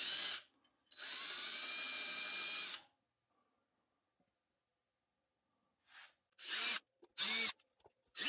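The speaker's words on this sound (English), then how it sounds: "as you can see now, I'm sanding it back" A power tool sands epoxy resin on a turned poplar bowl in short bursts: one long steady whine, then silence, then several brief spurts that rise and fall, close and fairly loud.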